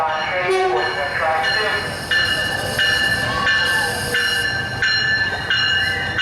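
A passenger train rolls past at Dania Beach, Florida, a steady loud rumble with bright squealing wheel and horn-like tones, while people chat nearby.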